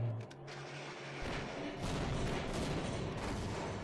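Grenades exploding in the Half-Life game: a dense, continuous rumble of blasts and crackle that swells and stays loud through the clip, with no speech.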